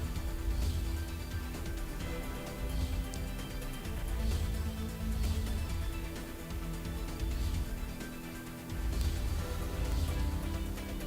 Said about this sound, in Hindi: तो ऐसे में चंडीगढ़ में सुबह से ही बारिश।